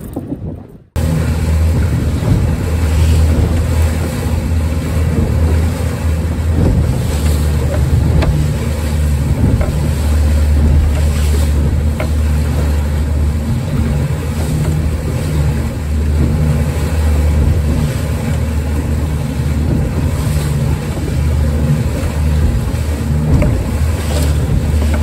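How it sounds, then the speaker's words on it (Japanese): Strong north wind and breaking whitecap waves at sea from a boat out fishing, a loud, steady roar of wind buffeting the microphone over rushing water for the full stretch, with no talking. "北風がやっぱり、予報通り、強くなってきました。"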